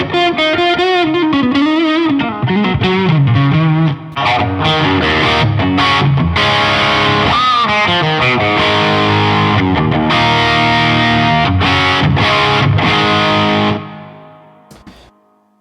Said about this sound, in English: I love the way strats sound through this.